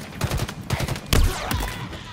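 Rapid bursts of gunfire from Halo Infinite crack out in quick clusters, loud and close, with overlapping shots and echoing reports.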